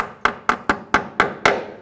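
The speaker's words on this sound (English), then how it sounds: "Just use a little hammer," Six sharp taps of a small hammer seating a brake hose clip on a 2011-2018 Volkswagen Jetta land in a steady rhythm about a quarter second apart, each a crisp metallic knock up close with a brief ring.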